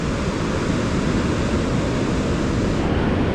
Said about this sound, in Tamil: தண்ணி கொஞ்சம் அலை அதிகமாக தான் வருது.